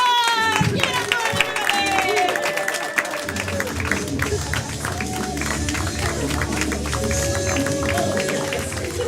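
A live audience claps at The Main Event, a dense, loud wave of applause with scattered cheers that holds steady for the whole stretch, with music and voices running underneath.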